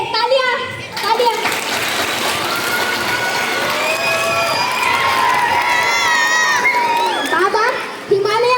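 A school audience watching a comic holy-man stage drama claps and cheers, with a lively crowd of children shouting and calling out over the applause throughout, loud and close.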